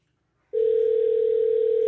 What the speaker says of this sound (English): Let me see if she answered the phone.